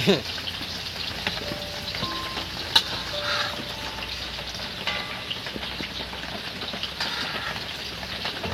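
Onions frying in a pan for khichdi, producing a continuous crackling sizzle like light rain, with occasional stirring scrapes and a sharp clink, steady throughout.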